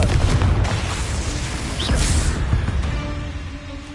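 A Confringo spell blast in Hogwarts Legacy, played on PS5, with a loud, dense booming burst filling the clip as an explosion and its rumbling tail, sustained throughout without voices.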